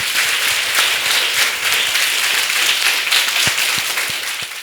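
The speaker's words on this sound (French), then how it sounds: "Est-ce que vous pouvez applaudir très fort pour vous-même?" Schoolchildren applauding energetically at an event, a dense, loud clatter of many small hands clapping continuously, with a few sharper claps standing out as it begins to taper.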